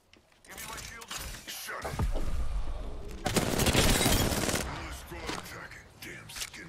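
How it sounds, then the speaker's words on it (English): Sustained automatic gunfire in the battle royale video game Apex Legends, dense bursts of shots building through the middle and continuing with intermittent cracks, with squad voices talking over the fighting. "I'm being shot west."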